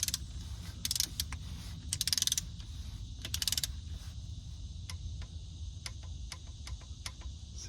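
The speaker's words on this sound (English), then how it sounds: "Torque wrench." A torque wrench works on rod bearing bolts of a 2017 Kia Optima engine, giving sharp ratcheting bursts followed by a scatter of single close metallic ticks against a low background hum, no talking.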